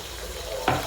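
Tomato with ginger garlic paste frying in a pan for egg rice, a steady low sizzle with a brighter burst of crackle near the end, close and alone.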